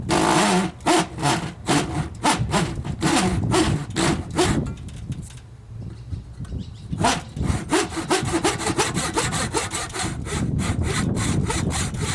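Hand sanding with 120 grit sandpaper on a chocolate ripple cake experiment piece, loud rapid back-and-forth strokes in bursts, pausing briefly midway before resuming steady rhythmic rasping.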